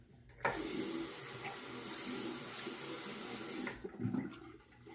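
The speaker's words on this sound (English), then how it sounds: "let me wet the razor" A bathroom tap runs to wet an Eversharp Schick Hydro-magic injector razor, a steady hiss of water for about three and a half seconds, close and fairly quiet, ending with a small splash.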